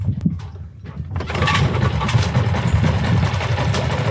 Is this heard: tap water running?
no